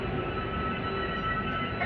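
Steady rumble and rail noise from a Humsafar train running on the tracks, heard as a continuous loud roar from on board with no distinct clacks or voices.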